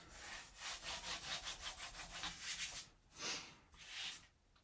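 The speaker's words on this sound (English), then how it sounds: "And I'm going to burnish this down." Cardstock burnished down onto an album box with a scoring board, a run of quick rhythmic rubbing strokes, close and moderately loud, then a pause and two longer rubs, with no voice.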